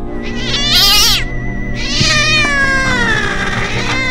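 A cat meows loudly and insistently up close, first in a sharp, high cry and then in a long, wavering, drawn-out yowl.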